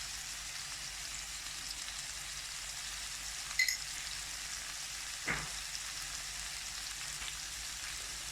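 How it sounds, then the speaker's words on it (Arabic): Taco filling seasoned with cumin fries in a pan with a faint, steady sizzle, broken only by a couple of soft clinks, and no talking. "نخليه حتى كيتقلى لينا مزيان"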